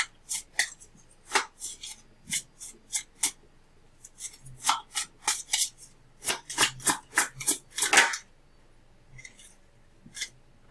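Tarot cards being shuffled for a reading, heard as a string of quick, crisp riffling bursts with uneven gaps and a dense cluster near the middle, close up and with no voice over them.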